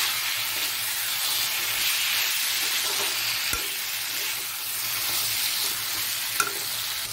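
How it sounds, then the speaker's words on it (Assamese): Crab pieces and potatoes fry in hot spiced oil, giving a steady, loud, even sizzle and crackle that runs unbroken throughout, with a faint knock partway through. "এইখিনি এতিয়া অলপ দেৰি 5 মিনিট ভাজিম বঢ়িয়াকৈ।"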